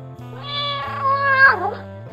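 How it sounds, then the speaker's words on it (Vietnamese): A cat gives one long, medium-length meow that rises and bends in pitch, close and clear with nothing else heard. "Tiếng kêu meo meo dài vừa phải có thể là mèo đang xin nước hoặc thức ăn."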